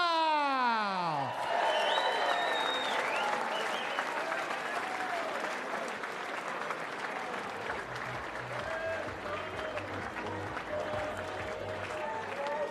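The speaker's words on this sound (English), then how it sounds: "a massive round of applause for your finalist from the Netherlands, Eileen de" Large arena crowd at a darts world championship applauding a finalist, with cheering mixed in; an announcer's voice opens it before long, steady clapping that stays loud to the end.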